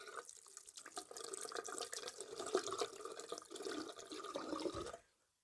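Running tap water splashes over a Merkur razor held close beneath the stream, a steady rushing gurgle with faint clinks that stops abruptly near the end, no speech.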